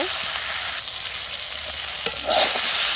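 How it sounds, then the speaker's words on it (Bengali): Chopped okra fries in a pan, giving a loud, continuous close sizzle with stirring scrapes and a brief surge near the end, with no talking. "ঢ্যাঁড়সের ভাজাটা বাকি আছে বন্ধুরা, ভালো করে ভেজে নেব।"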